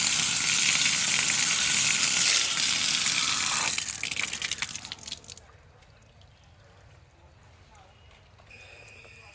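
A strong hissing spray of water washes soil off a plant's roots for several seconds, then cuts back to a softer trickle before rising again briefly.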